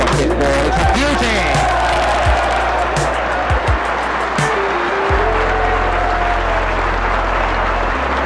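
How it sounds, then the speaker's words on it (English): A snooker crowd applauds warmly after a fine shot in a 1971 Ray Reardon break, a steady wash of clapping with some cheering, a commentator's voice and low hum underneath. "The applause tells its own story"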